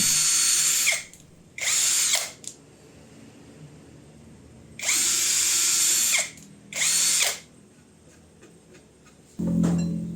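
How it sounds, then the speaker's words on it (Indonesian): Power drill driving screws into a wooden board in a homemade workshop, with several loud whirring bursts of one to two seconds separated by pauses and a final lower-pitched burst as a screw seats. "Setelah lemnya kering, selanjutnya kita sekrup ke papan."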